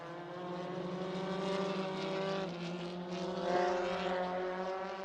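MRF Challenge single-seater race cars drone past on track, engine tones rising and falling steadily and fairly faint, heard at a distance with a gradual approach and pass.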